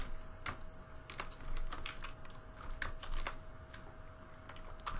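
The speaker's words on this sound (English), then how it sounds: "trouble typing" Quiet, quick keystrokes clatter on a computer keyboard in irregular bursts of clicks, close and soft, with no voices over them.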